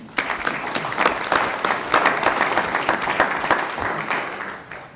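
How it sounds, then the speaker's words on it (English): Applause from the audience at an insurance committee meeting for the panel presenters, a dense, steady clapping that swells right away, carries for several seconds and tapers off near the end. "Let's give them a round of applause"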